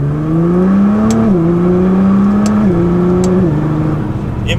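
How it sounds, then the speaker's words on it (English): A modified Nissan GT-R engine and exhaust revving hard, a loud, throaty, continuous drone that climbs in pitch, dips briefly between shifts, then climbs again, close and steady throughout. "you just hear that throaty, meaty sound that the GT-R can make"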